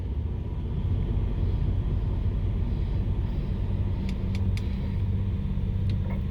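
A 1987 Dodge Ramcharger truck without power steering drives along with a dense, low engine rumble and road drone heard from inside the cab, plus a few faint high clicks near the end.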